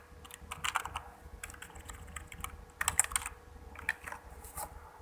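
Typing on a computer keyboard at a desk, with quick bursts of soft clicking keystrokes and short pauses between them, close and fairly quiet with no talk.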